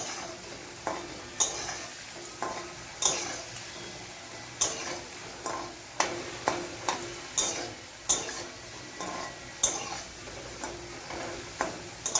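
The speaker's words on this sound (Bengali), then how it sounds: "আলুগুলো লাল লাল ভাজা হয়ে গেছে" Potatoes frying in oil in a pan, a soft steady sizzle broken by regular sharp clicks and scrapes of a spatula against the pan, roughly every second or so, close by with no talking.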